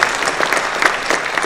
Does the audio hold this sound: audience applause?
yes